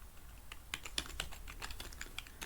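Rapid typing on a computer keyboard while entering an account number variable in a programming exercise: a steady stream of close, crisp key clicks with irregular rhythm and occasional louder keystrokes, no voices.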